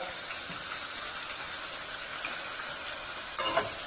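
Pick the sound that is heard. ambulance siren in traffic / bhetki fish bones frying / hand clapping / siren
bhetki fish bones frying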